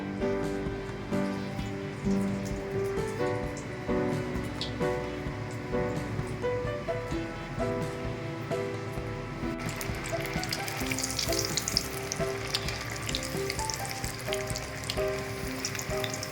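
Breaded chicken cutlets fry in hot oil, making a soft, rain-like crackle that grows brighter and fuller partway through, heard beneath tuneful background music.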